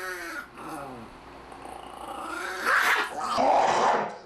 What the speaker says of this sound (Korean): 으르렁대기 시작하더니